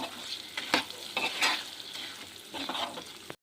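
A spoon stirs salt into tomato chutney in a pan, soft scraping strokes in uneven bursts over a faint sizzle, quiet and close, ending abruptly.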